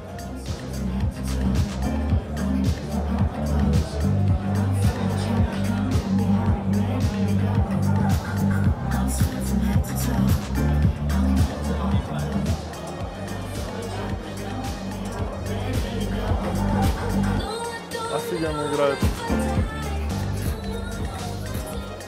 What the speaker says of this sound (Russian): даже на выставке тут шумно, отовсюду играет музыка